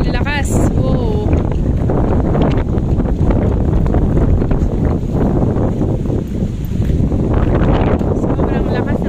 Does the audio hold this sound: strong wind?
yes